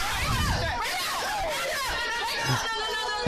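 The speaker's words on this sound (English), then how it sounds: "Now everybody's yelling and stuff." Several people yell and shout over one another during a brawl on a bus, agitated voices overlapping loudly and continuously with no calm talk.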